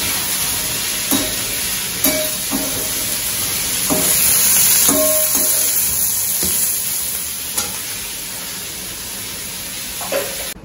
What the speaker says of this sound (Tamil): இப்ப இது நல்லா கொதிச்சுட்டு இருக்கு.